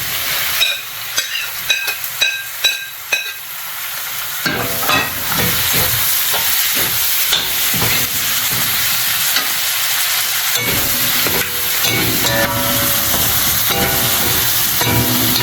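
Cabbage and already cooked meat sizzle loudly in a hot pan while being stir-fried for pancit miki, with a continuous crackling hiss and the scrape and clack of a utensil tossing the food.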